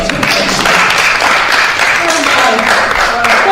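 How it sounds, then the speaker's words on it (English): An audience at a school accents celebration day applauds in a continuous, dense wash of clapping that carries on for several seconds at close range, with some voices mixed in. "let's clap for Goody."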